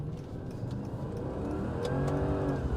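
A V8 Mercedes-Benz W210 E430 accelerating in low gear, its engine note steady and rising gradually in pitch and loudness over a few seconds, heard from inside the car with no talk.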